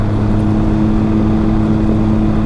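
A Can-Am Ryker fitted with an aftermarket intake, tune and exhaust idles with a loud, steady, throaty engine drone that holds even throughout, close by.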